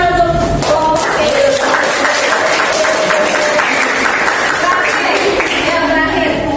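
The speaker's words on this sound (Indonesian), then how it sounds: "Tepuk tangan untuk kelompok B." A classroom of students applauds a student group after its presentation, a steady, fairly loud patter of many hands clapping close by, with voices talking and chattering throughout underneath.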